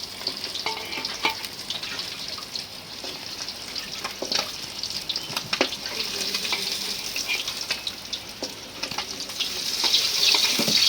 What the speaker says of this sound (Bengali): মাছ ভাজা হয়ে গেছে, উঠাই নিয়ে একদম হালকা ভাজা দিলাম।